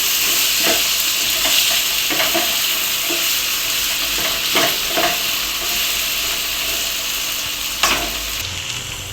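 Diced potatoes frying with cooked lentils in a pan, a continuous sizzle and hiss broken by repeated scraping stirs of a spoon against the pan, close and steady throughout.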